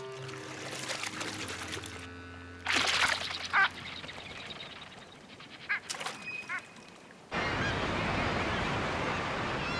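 Long-tailed ducks calling on open Arctic water, with short honking and yodelling notes in scattered bursts, then a steady rushing wash of water toward the end.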